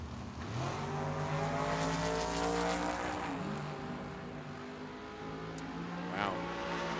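A 1963 Nova and a 1969 Mustang drag racing at Tucson Dragway, with engines roaring and rising through gears in sweeping tones, loud and sustained, and a brief tire chirp near the end.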